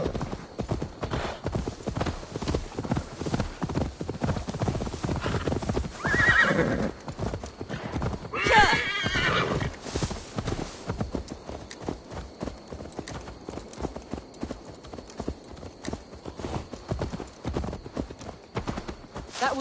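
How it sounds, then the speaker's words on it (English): Horse hooves clip-clop steadily in Assassin's Creed Valhalla, a continuous rhythmic trot with a couple of neighs and whinnies partway through, mixed with game sounds. "Now to deliver Magni his horse."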